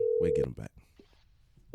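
A telephone busy signal after a dropped call, a steady held tone that plays briefly at the start and then breaks off, with people talking over and after it.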